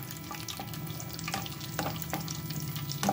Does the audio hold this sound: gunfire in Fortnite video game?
no